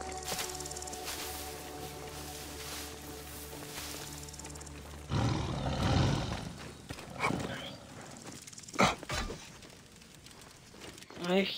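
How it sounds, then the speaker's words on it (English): Lions roar in the video game Assassin's Creed Origins, with deep growling roars and rumbles among game sounds such as hoof clatter and bursts of impact. A voice speaks now and then over it. "I hear lions roar."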